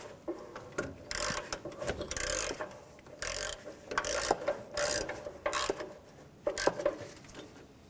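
Close, dry ratcheting on a Nissan exhaust manifold fastener, 2004-2015 model, in short bursts of rapid clicking with brief pauses between strokes, loud and alone.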